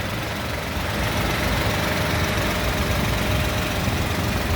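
A 2016 Toyota Agya G with a manual gearbox idles close by, a steady low engine hum with an even, unbroken rumble and no voices.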